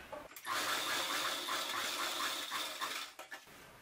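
A sewing machine stitching a strip of fabric onto a ladies' kameez, a steady rapid mechanical whir that starts abruptly, runs for about three seconds, then stops with a few fabric handling sounds.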